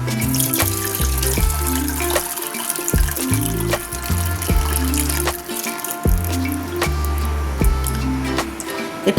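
Thin Bengali gravy poured into a pan of dhokar dalna, a steady liquid splash and trickle lasting several seconds over a loud, rhythmic background of music.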